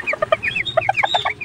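Mother hen clucking close by in a short run of quick, choppy clucks, loud and clear against a quiet background.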